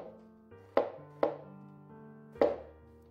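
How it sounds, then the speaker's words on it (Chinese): A steak knife chops peeled luffa into segments on a cutting board, giving three sharp, close knife strikes with short pauses between them and no talking. "然后切段"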